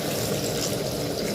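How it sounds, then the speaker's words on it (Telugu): Water pours steadily into a pan of cooking tomato chutney, a short, close, continuous splashing rush with no voices. "నేను హోటల్ స్టైల్ కాబట్టి వాటర్ వేస్తున్నానండి"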